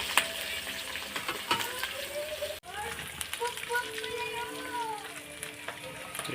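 Fish frying in a pan for breakfast crackles and sizzles steadily, with scattered pops and a short dropout midway, while a person talks faintly over the cooking.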